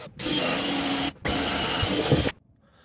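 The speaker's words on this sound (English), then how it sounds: "We first drill a 1/2-inch hole on this 10x10 junction box" Power drill boring a 1/2-inch hole through a 10x10 PVC junction box, a loud steady whine in two sustained bursts separated by a short pause, stopping abruptly into near silence.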